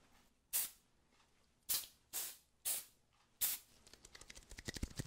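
Five close, short bursts of perfume sprayed from an atomizer, each a sharp hissing puff with pauses between, followed by a quick run of softer clicks and taps.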